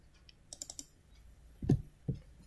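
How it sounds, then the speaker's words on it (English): A few quick keystrokes on a computer keyboard as a command is typed, a short burst of light clicks followed by two heavier key presses, close and quiet with no talking. "let me type Python hyphen hyphen version command"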